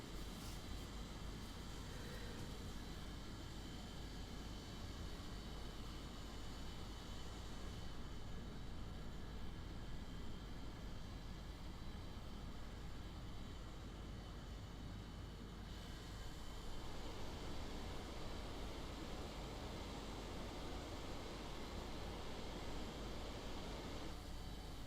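A Mitsubishi T-2 jet in War Thunder flies at high altitude, its engine a steady, continuous broadband roar that holds level and unbroken throughout.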